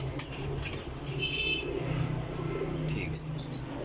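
A female flying pigeon coos softly, low repeated coos under a steady outdoor hum with scattered faint chirps from other birds nearby.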